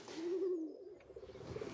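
A racing pigeon gives a soft, low coo up close, a single drawn-out call followed by a fainter trailing murmur, quiet against light background noise.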